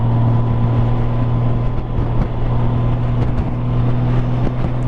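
A new Honda motorcycle ridden out of the dealership sends a steady, droning engine hum through the whole stretch. Heavy wind rush sits over it, loud and constant, and no one talks.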